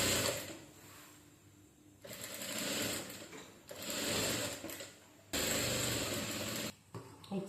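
A sewing machine stitches a saree blouse with its lining, running in several close, whirring bursts of a few seconds each, separated by short pauses.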